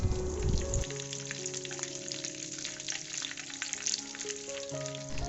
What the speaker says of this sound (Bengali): একদম লোতে রেখে কিন্তু এটাকে ভালো করে ফুটিয়ে নিতে হবে